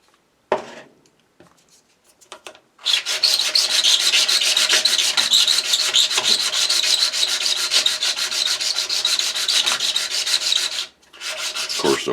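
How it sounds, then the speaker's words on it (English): A homemade rust removal tool using small tumbling media pyramids scrubs loose rust off metal, a loud, steady abrasive rasping that runs for about eight seconds after a few brief scrapes, then stops and briefly resumes. "it's taking the loose rust off at least"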